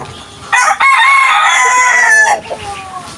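A farm rooster gives one loud, close cock-a-doodle-doo crow lasting nearly two seconds, followed by softer clucking.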